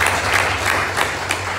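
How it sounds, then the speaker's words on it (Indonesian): Audience clapping at an Indonesian seminar, a dense, steady wash of applause with a low hum running underneath and no speech. "Tepuk tangan buat Pak,"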